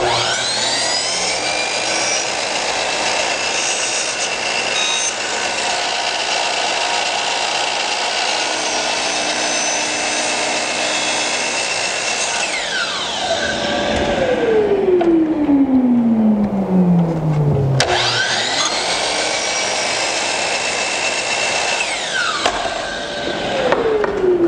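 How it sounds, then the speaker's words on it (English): DeWalt DCS335B cordless jigsaw making a square cut in wooden trim for a coped joint, a continuous close, loud whining buzz that slows and drops in pitch, stops briefly, then restarts and runs on steadily. "I like to make a square cut down here just so the top of the cope has a nice square cut"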